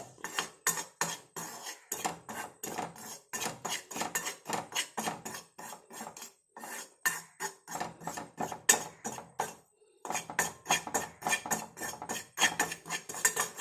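A spoon rapidly clinks and scrapes against a pan as tea powder is fried and stirred, making a fast, steady metallic rhythm with one brief pause, close but moderately quiet.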